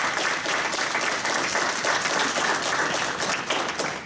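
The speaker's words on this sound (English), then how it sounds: "So let's give a round of applause for Peter McLaren." A conference audience claps in sustained, dense applause at a closing summit session, a steady roar of many hands throughout.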